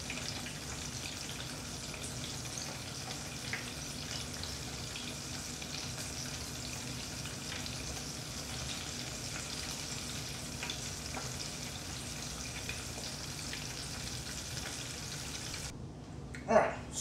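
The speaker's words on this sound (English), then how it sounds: "They fry up very quickly" Panko breaded shrimp fry in hot oil with a steady, close sizzle and crackle that runs throughout, ending in a brief louder clatter.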